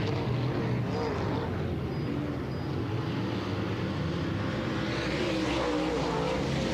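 Race cars roar around a county speedway oval during a heat, number 14 among them, making a dense, continuous engine drone at a steady distance with no breaks.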